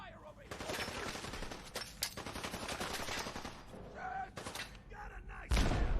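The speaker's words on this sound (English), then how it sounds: "Cover fire over here!" Gunfire in the Fallout 4 video game during an Enclave park street fight, with sustained rapid automatic bursts and scattered single shots, loud and dense, breaking into a few separate blasts near the end.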